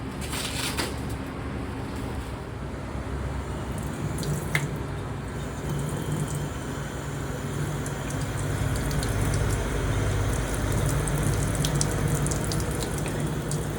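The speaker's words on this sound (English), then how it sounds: "you're going to rinse off your meat" Chuck roast rinsed under a running kitchen tap: a steady, close rush of water splashing over the meat for the whole stretch, swelling a little louder toward the end, with no talking.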